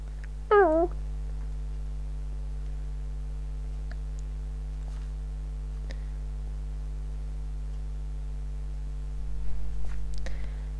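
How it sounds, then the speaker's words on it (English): A kitten gives a single short, clear meow near the start, then only a steady electrical hum and faint rustles remain indoors. "Silly kitten."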